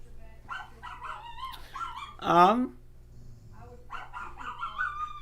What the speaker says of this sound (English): Max, I swear to God, if you keep barking